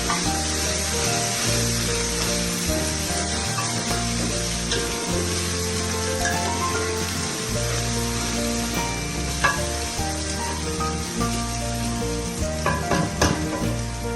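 Chopped onions and ginger garlic paste fry in about a cup of oil for a daal mash dish, a loud continuous sizzle and crackle with occasional stirring scrapes. Low rhythmic thumps run underneath, and nobody talks.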